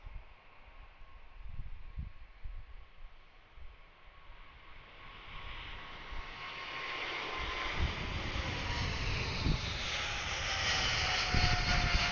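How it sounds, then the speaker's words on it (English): A jet airplane begins its takeoff roll at Anchorage airport, a broad engine roar heard from a distance that swells steadily and grows louder as the aircraft accelerates. "Here he goes, starting to take off roll."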